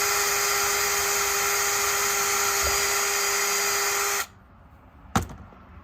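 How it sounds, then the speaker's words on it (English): A high-pitched power drill whines steadily for about four seconds while boring a hole for a catfish fishing weight, then cuts off abruptly, followed by a sharp knock and quiet. "put your hole there, and drill your hole"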